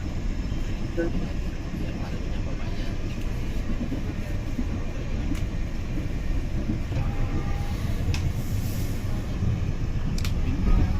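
Continuous low rumble and rattle from inside a moving Matarmaja passenger train, with steady carriage noise and faint clicks throughout. Quiet background chatter sits under the rumble.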